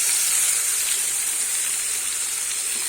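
Ground spice paste sizzling and frying in hot oil in a home kitchen while making a banana blossom and prawn dish, a steady bright hiss close by with no break, and no voices.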